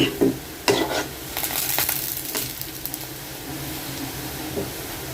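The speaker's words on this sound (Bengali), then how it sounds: "এতো পেঁয়াজটা কিন্তু ভাজা হয়ে গেছে" Onions frying in a pan for a mixed vegetable dish, a soft steady sizzle with a few sharp scrapes and clinks of a spoon stirring, close and moderately quiet.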